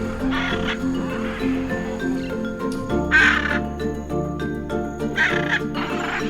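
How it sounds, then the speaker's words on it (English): A flock of red and blue macaws calls in the Amazon forest, harsh raucous squawks rising in several loud bursts over a busy, layered forest background. "Dazzling flocks of macaws cross the sky, intense red plumage, blue. Their calls resound through countless layers of trees."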